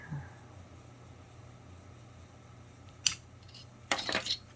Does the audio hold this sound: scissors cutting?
yes